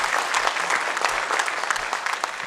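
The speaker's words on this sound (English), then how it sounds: "A quick round of applause and acknowledgement of this incredible cabinet." Audience applause at a town hall meeting in Ruidoso, a sustained burst of many hands clapping together, close and fairly loud, with a faint murmur of voices underneath.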